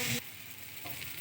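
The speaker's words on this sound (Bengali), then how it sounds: "দেখো আলুটা কত সুন্দর ভাজা হয়ে গেছে" Potatoes fry in a pan, starting with a short loud burst of sizzle that settles into a steady, softer crackling hiss.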